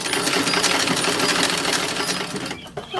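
A sewing machine runs at speed stitching the seam of a 1930s toddler dress, a dense, loud mechanical whir that cuts off shortly before the end.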